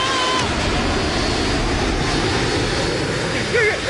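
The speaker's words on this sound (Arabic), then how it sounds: "ابتعدوا عن تلك الطائرة" Airplane flying as a cartoon sound effect, a steady broadband engine roar held loud and continuous throughout, with brief chirpy tones near the end.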